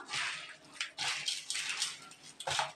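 Onion vadagam mixture is mixed by hand on a plate, making close, wet squelching and rustling bursts in quick uneven strokes, with short pauses between them.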